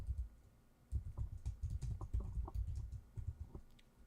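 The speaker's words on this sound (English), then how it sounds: "let me type that out" Quiet computer keyboard typing, a short burst of soft, uneven clicks close by with brief pauses between keystrokes and no voices.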